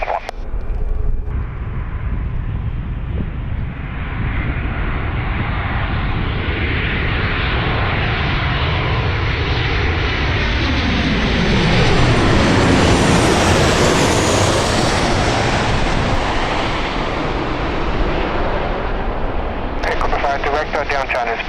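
A Southwest airliner lands on runway 9 at San Diego, its loud jet engine roar building and shifting in pitch as it passes close by, sustained throughout with a brief rise near the end.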